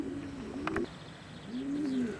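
A Hofkin racing pigeon coos up close, giving two soft, low rolling calls separated by a short pause and set against faint background noise.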